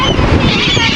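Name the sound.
seagulls calling as they fly in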